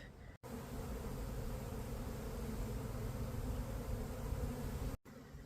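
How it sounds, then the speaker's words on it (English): A swarm of honey bees that absconded from their hive gives a dense, continuous buzzing, steady and moderately loud throughout, with no voices. "That little swarm that absconded decided to move into our empty bee equipment."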